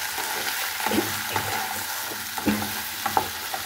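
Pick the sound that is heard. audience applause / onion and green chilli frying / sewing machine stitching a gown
onion and green chilli frying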